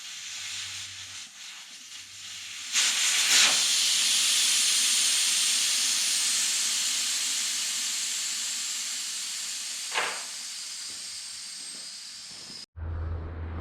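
Air hissing hard and steady from the valve stem of a flat RZR side-by-side tire, starting abruptly and running loud and close for several seconds before cutting off sharply.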